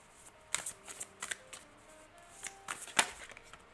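Tarot cards are shuffled up close for a reading, giving a series of crisp riffling bursts and flicks of varying strength with short gaps, with no talk.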